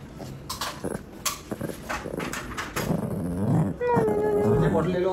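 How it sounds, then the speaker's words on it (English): A dog growls low and rumbling, breaking into short whining barks and yelps near the end, with a person speaking in the background. "Oh, she wants to bark."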